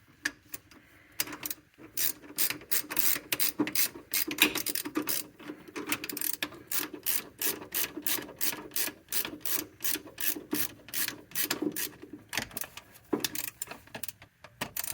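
A ratchet wrench snugs the starter cable nut on the solenoid of a 2005 Jeep Grand Cherokee Laredo with a 3.7L engine, giving long runs of quick, close, evenly spaced clicks with a few short pauses.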